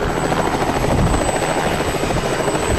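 A helicopter heard loud and close, its rotor and engine making a steady, dense, throbbing roar with no pauses.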